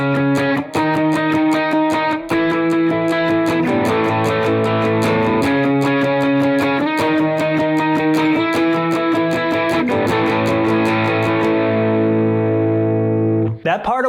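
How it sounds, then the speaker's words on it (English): A distorted second electric guitar plays octave swipes for a song, with rapid, evenly spaced muted scratches between ringing chords and a sudden stop at the end. "that guitar is going to be playing octave swipes"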